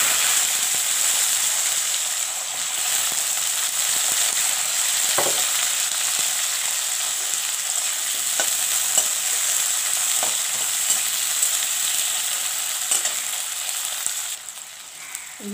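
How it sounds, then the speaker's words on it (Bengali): Onion, ginger and garlic fry in white oil in a wok for a cauliflower dish, giving a loud, steady sizzle that is occasionally punctuated by the clacks of stirring, with no talking. "এর ভিতরে আমি পেঁয়াজ আদা রসুনটাকে ভেজে নেব"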